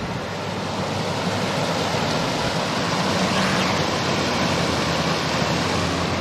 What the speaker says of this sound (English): Little mini me waterfall.